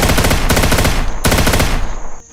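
Firecrackers burst in rapid strings of loud, close pops, two dense volleys back to back that cut off sharply, then the second volley fades near the end.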